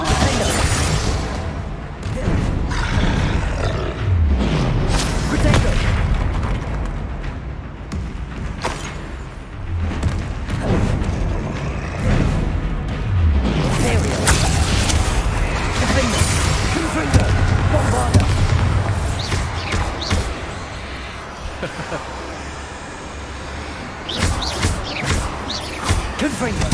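Confringo and Bombarda spell blasts in Hogwarts Legacy, repeated booming impacts and crackling bursts scattered through an ongoing spell-casting fight, with a player's voice speaking throughout.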